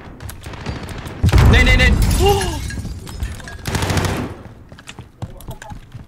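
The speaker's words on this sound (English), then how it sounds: "He's shooting us." Rapid automatic gunfire bursts from Call of Duty Warzone, with loud, close volleys cracking and echoing in dense clusters, mixed with players talking over game chatter.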